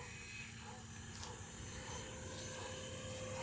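An E-Flite F-18 Hornet 80mm EDF model jet with a 980mm span flies on its maiden flight, its ducted fan giving a steady, distant whooshing drone that holds level throughout.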